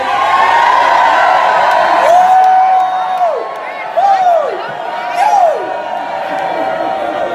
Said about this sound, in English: Let's hear a cheer.